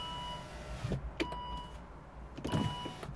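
A 2014 Volvo XC60 power window, under repair for a not-working fault, whirs through a motor run with clicks of the switch and thumps as it stops. An idling car hums underneath and the sound is close and moderately quiet.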